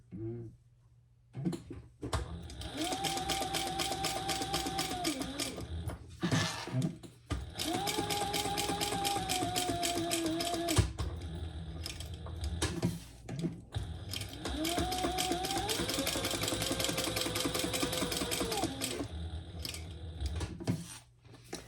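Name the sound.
sewing machine top stitching a belt bag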